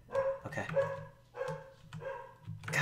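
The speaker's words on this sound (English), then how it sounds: "My dog's barking." A pet dog barks several times in short bursts in a home during gaming, moderately close, with brief gaps between barks and no talk over them.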